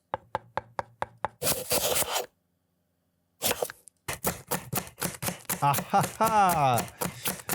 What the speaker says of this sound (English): I am going to search chopping salad.